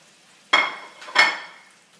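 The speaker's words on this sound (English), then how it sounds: "we're gonna add the shrimp back in with whatever juices were there from before" Shrimp and their reserved juices tipped back into a pan of shrimp scampi with chopped parsley, giving two quick clattering, sizzling bursts about half a second apart, close and fairly loud, each fading out, with no talk.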